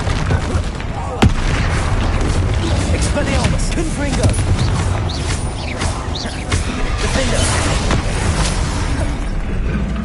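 Spell explosions from Bombarda and Confringo crash and boom continuously in Hogwarts Legacy, a dense, loud barrage of blasts and rumbling impacts with one sharp crack early on.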